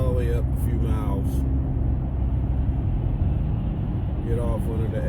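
A Dodge Journey Sport cruising along the road, with steady low engine and road rumble running throughout and a voice talking over it at moments.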